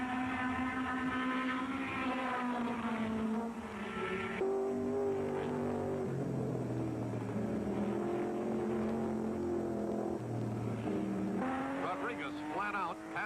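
Racing sports cars at full speed during the 1964 12 Hours of Sebring, engines droning and shifting pitch as they pass, loud and sustained with rising and falling tones, with a commentator's voice running over them.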